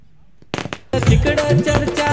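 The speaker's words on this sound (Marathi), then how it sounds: "नक्कीच समीर शेठ फडके यांचा फटाक्याच्या आतिषबाजीने नक्कीच स्वागत केलं जात आहे." Firecrackers set off in welcome at a village cricket tournament semi-final, starting with a few quick sharp pops, then a dense loud crackling barrage of rapid bursts that carries on to the end.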